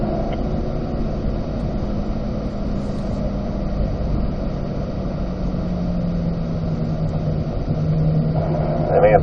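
A Chevrolet Corvette C8 on a racetrack, its engine drone steady and loud from start to finish, rising slightly near the end as it pulls through an upshift into fourth gear.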